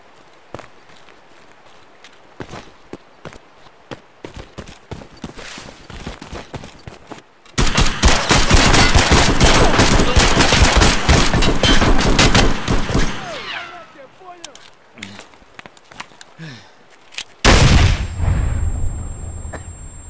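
Gunfire in the game Escape From Tarkov on the Shoreline map: a dense, loud burst of rapid shots lasting several seconds, then scattered footsteps and movement, and a final heavy blast with a low rumble.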